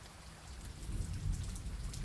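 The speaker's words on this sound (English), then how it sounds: "The storm's getting worse." Steady rain pours in a video game storm, with a low rolling rumble of thunder swelling in the middle, a continuous dense hiss that is fairly quiet overall and has no voices.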